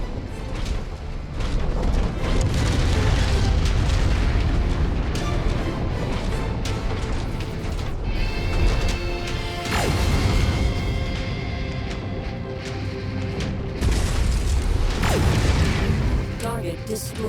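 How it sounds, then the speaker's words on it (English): Explosions and heavy weapon fire in the mech combat game MechWarrior 5 boom and crash repeatedly over a dense, loud battle din, with radio-style voice callouts intermittently on top. "Critical explosion imminent."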